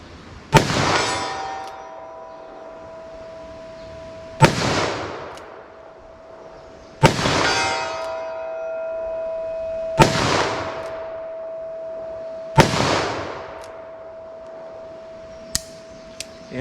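Five .44 handgun shots ring off a steel target at 75 yards, each a sharp crack followed by a sustained metallic clang that hangs and decays over a few seconds, spaced irregularly with no talking.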